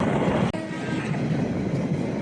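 A train bound for Cox's Bazar running on a single-line dual-gauge track, a loud, steady rumble and rattle of carriages with a brief break partway through.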